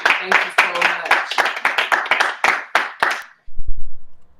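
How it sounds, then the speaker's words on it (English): A short burst of enthusiastic hand clapping from a small group during a cast chat, quick and fairly close, ending abruptly and followed by a brief low thump. "I love rounds of applause"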